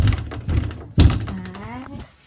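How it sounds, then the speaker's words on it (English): Three heavy thumps strike an indoor wall in quick succession, loud and close, followed by a short voiced sound as the banging stops. "This is me banging too much in the wall."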